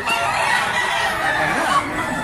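Chickens cluck and call continuously in a busy, noisy flock, with a rooster-like cry rising briefly near the end.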